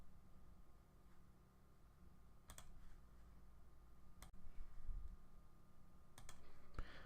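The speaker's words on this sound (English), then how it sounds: "Right click, select paste, then right click and then select paste." Computer mouse clicks while working in the GDevelop 5 game editor, a few sharp isolated clicks, some in quick pairs, over a quiet steady room hum.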